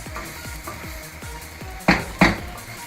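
Vegetable bolognese sizzling hard over high heat in a pan on a gas cooker, with steady frying hiss, regular stirring scrapes and two louder clanks of a utensil against the pan near the end.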